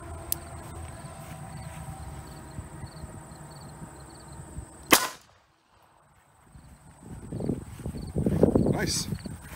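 CZ50 pistol firing a single 32 ACP round at an Italian M33 steel helmet, a sharp crack midway through at moderate distance, outdoors among insects, with voices talking afterward.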